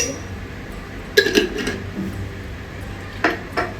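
A kadhai being set down and handled on a stove, with sharp metallic clanks and clatters of pans at two moments over a quiet kitchen background.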